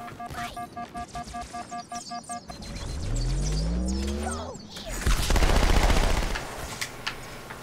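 Grunts in Halo 2 Anniversary fire in rapid bursts of repeated shots, then a rising whine and a heavy blast follow, with more scattered gunfire after.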